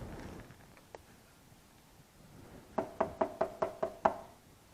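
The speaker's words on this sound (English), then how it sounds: "knock on the door continues." A few scattered soft taps, then a clear run of seven firm, evenly spaced knocks on a wooden door, close and alone with no voices.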